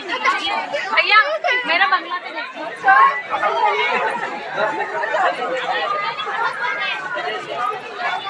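A dense crowd of devotees chatters at the Dwarkadhish temple in Virar, many overlapping voices forming a steady, close hubbub with no pauses.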